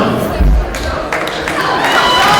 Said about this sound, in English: Let's let the fun begin and cheer your team on